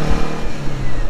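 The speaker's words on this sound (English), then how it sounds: "Now, I love the sound of this engine." A Porsche 356's four-cylinder engine pulls hard up a hill, a close, loud, throbbing rasp with an uneven pulsing rhythm across a brief stretch.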